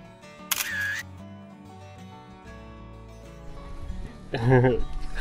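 A camera shutter clicks once sharply near the start while taking photos on a mountain trip, followed later by nearby talk and a faint background tone.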